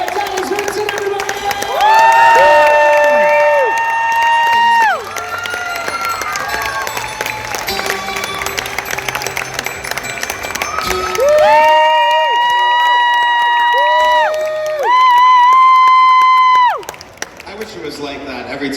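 A crowd at a horror fan gathering erupts in clapping, loud cheering and drawn-out hoots, in two big surges separated by a softer stretch of applause.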